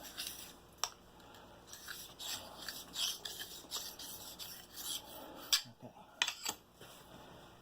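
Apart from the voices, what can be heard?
file sharpening the edge of a lopper blade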